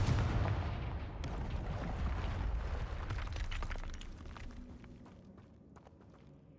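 A Confringo blasting spell in Hogwarts Legacy erupts as a loud, booming explosive burst that decays into a rumbling tail with scattered crackling debris hits, gradually fading.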